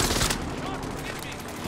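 Rapid bursts of automatic gunfire in Call of Duty: Modern Warfare, loud and dense at first and then continuing as a steady rattling barrage through the whole moment.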